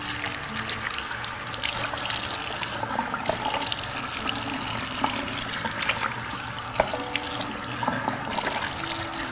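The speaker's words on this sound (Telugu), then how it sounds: "సో నేను ఇప్పుడు వాష్ చేసుకుంటున్నాను" Running tap water splashes continuously into a sink as a face pack is rinsed off, a steady close gushing with small irregular splashes and no voices.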